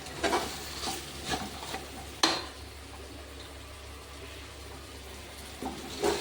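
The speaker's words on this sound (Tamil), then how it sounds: "இதோட நம்ம சாந்தோட இந்த மிளகாத்தூளை ஒரு நிமிஷம் தான் வதக்க போகிறோம்." Chili powder sautéed with a ground spice paste in a pan for a kurma, heard as soft spoon-stirring scrapes over a faint sizzle, with a few sharper clinks of the utensil against the pan.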